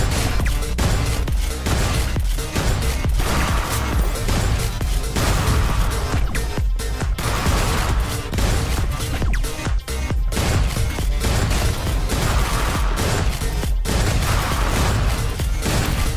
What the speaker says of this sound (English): as long as the battle sentries don't get destroyed,